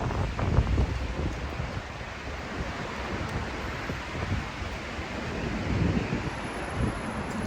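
Strong outdoor wind buffeting a microphone, a continuous loud roar with gusty swells and no other clear sounds.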